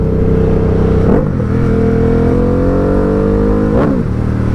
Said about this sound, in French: Avec le bicylindre en gros cube, le bruit est fou.